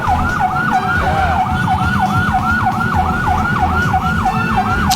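Wailing ambulance siren sweeping up and down in steady, repeated cycles, loud and close, over constant traffic rumble on an Indonesian road with motorcycles nearby.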